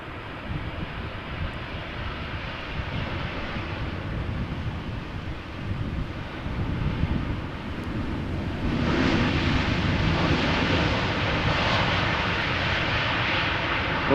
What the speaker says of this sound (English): Here we have a Dreamliner, 787-10 Dreamliner arriving from Atlanta, Georgia.